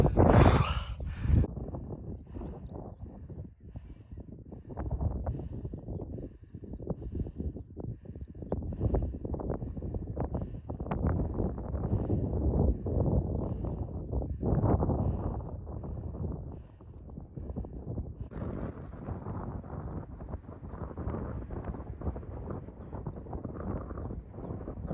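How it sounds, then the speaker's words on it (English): Strong wind gusting across an exposed hilltop on the Minto Hills, buffeting the microphone in continuous low rumbles that rise and fall for the whole stretch, with no voices. "It's very windy up top."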